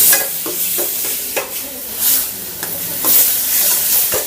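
Soya kurma cooking in a home kitchen pan: a steady oily sizzle broken by repeated scraping stirs of a spoon against the pan, loud and close, with no voices.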